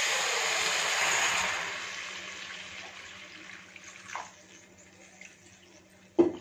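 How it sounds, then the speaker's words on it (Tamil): Water is poured into a cooking pot for ragi soup in a home kitchen, a steady splashing stream that tapers off, followed by a couple of light clinks. "இப்போ இதில் நம்ம தேவையான அளவு தண்ணி ஊற்றிக்கலாம்."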